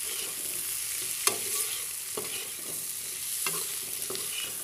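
Potato and capsicum pieces stirred in a pan of spiced oil over a medium-high flame, a soft steady sizzle broken by several distinct scraping strokes of the spoon, close by and without speech.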